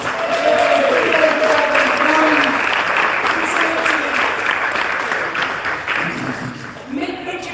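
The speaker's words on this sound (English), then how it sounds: "give Maureen a huge round of applause for her work" An indoor audience at a charity auction during the Southampton International Boat Show claps in a sustained, dense round of applause that slowly thins out, with a voice speaking faintly through it.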